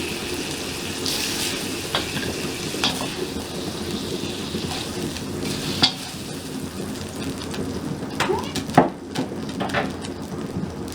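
Chicken fries in a pan sprayed with low-calorie cooking spray, a steady close sizzle and crackle with occasional small pops and scrapes, no talking.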